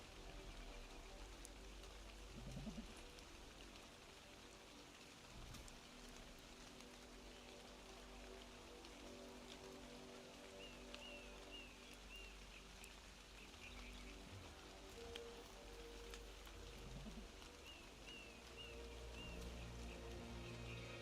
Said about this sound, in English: It's raining, I know. It is raining a lot.